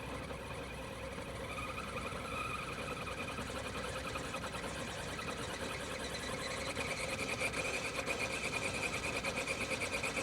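A small RC rock crawler's electric motor whines steadily and close, rising in intensity as throttle increases over several seconds, with no talk.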